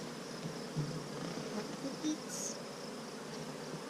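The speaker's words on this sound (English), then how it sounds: "Look at the bees." Bees buzz steadily around an open beehive during an inspection, a close, even hum with a few louder passes near the ear while a person speaks briefly.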